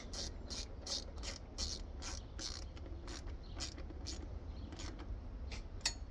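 Ratchet with an 8mm socket snugging small screws on a cheap carburetor, a quiet run of rapid clicking pawl bursts in uneven groups, close by with no talk.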